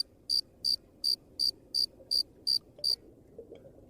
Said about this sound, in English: We hear the classic cricket sound before it then cuts to stock footage of a literal cricket.